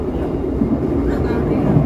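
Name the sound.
inside Kahuripan economy train carriage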